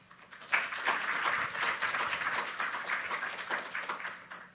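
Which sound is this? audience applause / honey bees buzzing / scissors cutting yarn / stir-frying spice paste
audience applause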